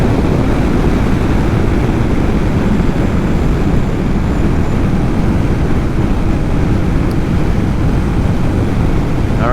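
A Kawasaki ZX7R motorcycle pulling at full throttle in 6th gear from about 70 to 100 mph, heard as a loud, constant roar of engine and wind rush with no distinct rev changes.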